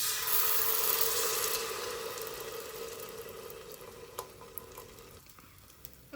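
Kalathappam batter poured into a hot pan sizzles loudly at first, then the frying hiss gradually fades to a quieter crackle with a few small clicks near the end.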